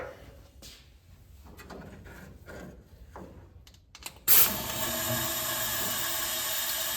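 A valve spring compressor for a Dodge D100 cylinder head is handled with scattered clunks and taps, then plugged in and switched on, giving a sudden loud burst followed by a steady running hum.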